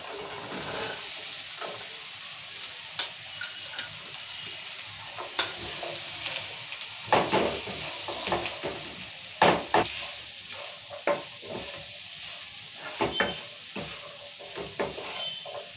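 Carrot frying in a pan for a simple carrot fry, steady sizzle with repeated scraping stirs and spoon clicks, close and clear, no talking.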